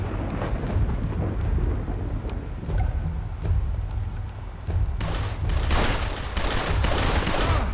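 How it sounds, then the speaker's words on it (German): Gunfire in the Blues And Bullets game, heard as repeated sharp cracks over a steady low rumble, growing denser and louder in the last few seconds. "es geht ein bisschen um Schießen hier"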